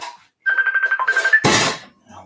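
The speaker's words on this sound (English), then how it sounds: "Why is that still ringing?" A phone that has been left ringing chimes in a kitchen with a quick, steady series of pulsing electronic tones for about a second, followed by a loud burst of noise and faint sounds trailing off.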